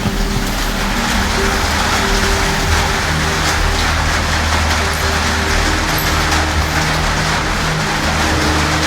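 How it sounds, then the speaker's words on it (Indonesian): Steady rain falls around a house, a continuous dense hiss with a low rumbling bed beneath it, holding constant for the whole stretch without a break. "Ya di rumah saya hujan."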